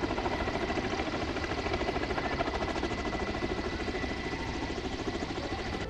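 A Black Sea Fleet military helicopter flies over a naval parade. Its rotor throbs steadily and evenly at a moderate distance with a continuous engine drone, and no talking.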